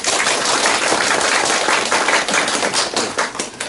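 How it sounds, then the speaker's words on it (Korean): Congregation applause during a church gathering, a burst of brisk, close clapping with sharp individual claps that stays loud and fairly even for a few seconds before thinning slightly at the end, no speech. "우리 박수 한번 해주세요"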